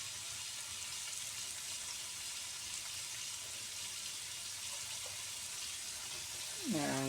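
Chicken frying in hot oil, a steady quiet sizzle and crackle throughout, with a brief voice near the end.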